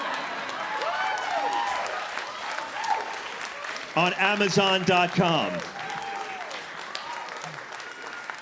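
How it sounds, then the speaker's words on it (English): Comedy-show audience at a live storytelling event claps and applauds through the whole stretch, steady under a man's speech, with laughter swelling briefly midway. "I don't know why you're clapping."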